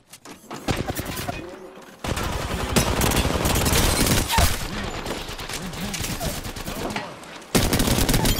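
Rapid, loud automatic gunfire fills an online shooter match, with continuous bursts and brief pauses, close and dense throughout.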